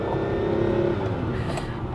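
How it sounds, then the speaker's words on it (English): A Ferrari 512BB's flat-twelve engine drones from inside the cabin while driving, with throttle blips rising and falling as the gearbox is worked through a change, continuous and close. "Oh, just stirring that gearbox, hearing them blips."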